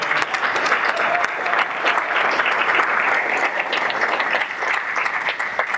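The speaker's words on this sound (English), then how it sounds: "Give him another round of applause." Sustained applause fills the room as an audience at a Montebello city council candidate forum at The Quiet Cannon claps, a dense even roar of many hands that carries steadily throughout.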